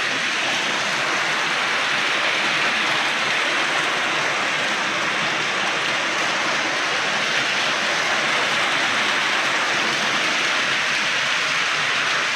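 Heavy rain driven by wind roars in a continuous loud wash, steady and close, with no voices over it.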